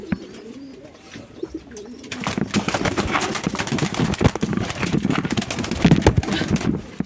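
Pigeons in a loft coo low and steadily, with sharp clattering knocks and flutters joining in after the first couple of seconds and building to a busy, close jumble.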